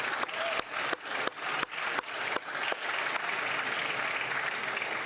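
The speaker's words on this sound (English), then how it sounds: "let us offer the Haitian community all our respect and applause" Applause in the Canadian House of Commons, dense clapping from many members with loud sharp bursts at first that settle into a sustained, even wash of applause, with no talk.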